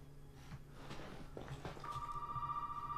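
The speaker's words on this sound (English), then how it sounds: "What or who is calling us at this hour?" A telephone rings in a Resident Evil 7 game scene, a steady electronic ring tone that starts partway through and holds over quiet ambient game sound and a few faint thumps.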